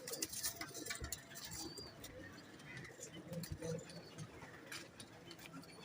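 A young Saharanpuri pigeon gives soft, scattered coos close by, mixed with small rustles and ticking sounds in a quiet room.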